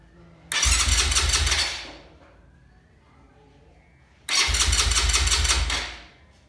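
A motorcycle's electric self-starter motor cranks with the kill switch off, so the engine never fires: two separate whirring bursts of about a second each, close and loud, split by a quiet pause.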